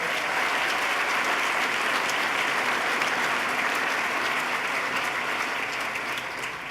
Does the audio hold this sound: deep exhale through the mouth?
no